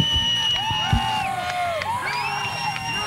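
A partisan crowd roars and cheers as Big John Holmes makes his way to the ring for a wrestling match, with whoops, high-pitched shouts and whistles in a dense, continuous din.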